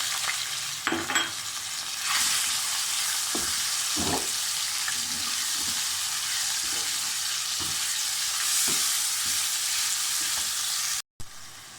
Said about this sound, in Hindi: इसको अच्छी तरह से फ्राई कर लेना है